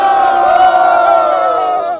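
A crowd at a street basketball match cheers and shouts loudly in one sustained, close burst of voices that fades out briefly at the end.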